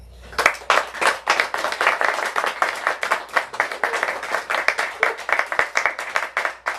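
Audience applause welcoming poet George Albon to a reading, steady dense clapping from a small-to-medium crowd that holds for several seconds before tapering slightly.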